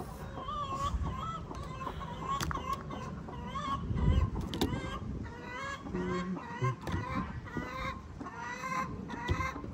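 Backyard chickens cluck and squawk continuously around a wooden coop with nesting boxes, several birds calling over one another at close range with no talk.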